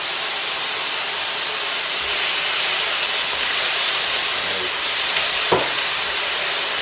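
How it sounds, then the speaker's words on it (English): Satay sauce from a jar sizzling in a hot pan with mushrooms, a steady broadband hiss holding throughout with a brief crackle near the end, close and alone with no talk. "you get a nice sizzle from it"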